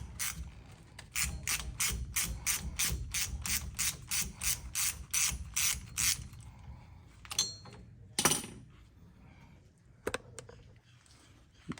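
A ratchet driver clicks rapidly in a steady burst while loosening an axle nut on a Hummer H1 Humvee, followed by a few scattered metallic clanks and knocks of the tool and hardware.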